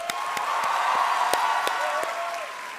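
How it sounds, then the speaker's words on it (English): Audience applause fills an auditorium at an evening lecture, a steady dense wash of clapping at moderate level lasting the whole stretch, with a few sharper claps and a faint whistle-like tone riding over it. "a big round of applause to all of you"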